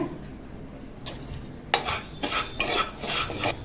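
Ingredients for green moong and fenugreek laddus dry roasting in a pan, with scraping, rattling strokes of a spoon stirring in quick bursts, close and moderately loud.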